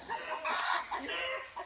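A hen clucks repeatedly in short, agitated bursts, fairly close, with a faint voice in the background.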